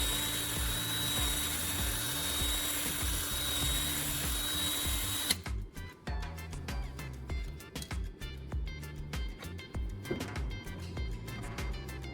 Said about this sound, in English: I drill another hole through the side of the wood, making sure it connects with the first hole